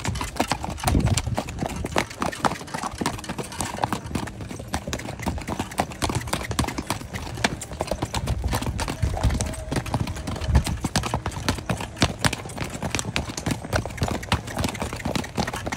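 A ridden Friesian horse clip-clops steadily on hard ground, its hooves making a brisk, close rhythmic stream of sharp knocks with a low engine hum underneath and occasional faint talk.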